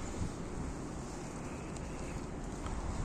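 Steady wind buffets an outdoor microphone, a continuous low rumbling roar with no breaks and no voices.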